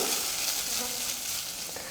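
Steady, loud sizzling of masala frying in a pan, a dense crackling hiss that continues without pause, with occasional soft scraping of stirring.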